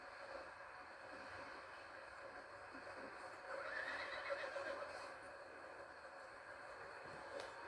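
A horse whinnies in the Red Dead Redemption 2 game, a drawn-out neigh rising in the middle of a steady low game ambience, moderately close and fairly quiet overall.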